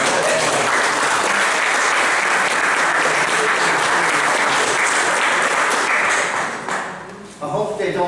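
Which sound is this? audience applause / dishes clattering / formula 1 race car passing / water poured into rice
audience applause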